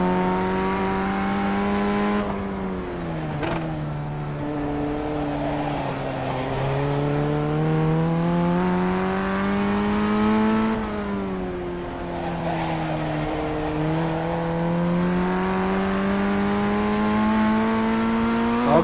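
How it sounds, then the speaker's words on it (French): A race car in the iRacing video game drones steadily with a tonal engine note that dips under braking and climbs again under full throttle, loud and continuous for about nineteen seconds. "Et on accélère à fond."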